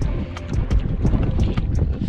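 Steady wind gusting and buffeting across a deep lake, heard from a small fishing boat, with continuous low rumbling noise and occasional higher rushing swells, no talking.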